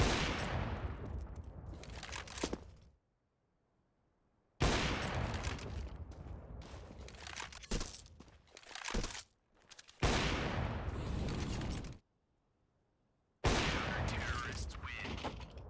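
Sniper rifle fire in Counter-Strike comes in several loud bursts of shots and mechanical clatter, split by short gaps of near silence.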